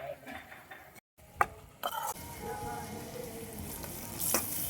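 Onions fry in a pan with a steady, close sizzle, broken by a brief dropout and a few clinks of utensils against the pan, with faint voices in the background.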